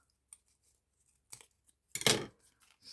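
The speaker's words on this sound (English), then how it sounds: "That one's white. We're going to have it, but I'm going to cut it in half." Scissors cutting through fabric, a few quiet separate snips spread across a near-silent moment, the last one the loudest and closest.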